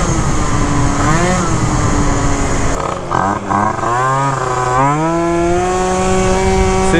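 Phantom F12 scooter fitted with a Stage 6 clutch and tuned CVT launching hard, its loud close engine climbing in pitch through repeated rising surges, briefly dipping mid-run before pulling up again.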